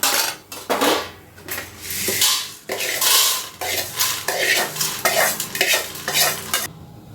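Metal spoon scraping and clinking against a pan in quick repeated strokes, with a light dry rustle of roasted spices for milagai podi being stirred and tipped onto a plate, no voices.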